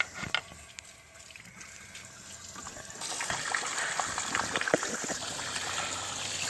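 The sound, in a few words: water flushed through a car radiator hose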